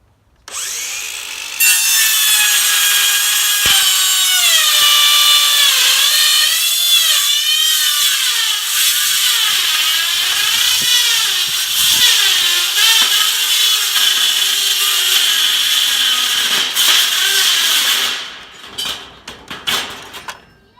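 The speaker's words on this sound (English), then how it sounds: "the teeth aren't ripping like they would on a piece of wood. They're more kind of scratching at the metal." A power saw cuts through metal roofing on a goat shed, a loud, sustained high-pitched scraping whine with shifting pitch as the teeth scratch the metal, ending abruptly with a few clatters.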